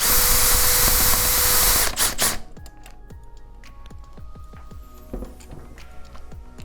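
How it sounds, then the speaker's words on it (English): A power drill on low torque whirs loudly for about two seconds while loosening a bolt, then cuts off, followed by scattered clicks and small tool clatter. "you can take your drill, speed it up a bit. Make sure that we're on low torque"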